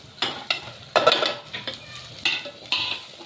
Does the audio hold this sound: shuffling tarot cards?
no